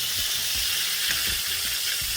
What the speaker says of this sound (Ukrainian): Поки рибка смажиться